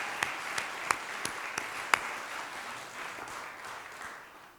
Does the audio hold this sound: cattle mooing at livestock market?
no